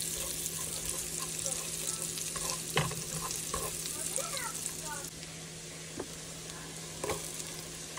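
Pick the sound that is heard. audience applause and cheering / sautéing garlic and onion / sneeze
sautéing garlic and onion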